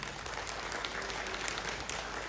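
Audience clapping at a public program in Kendujhar, Odisha, a steady, even wash of many hands that holds at moderate level for a couple of seconds, with no voices over it.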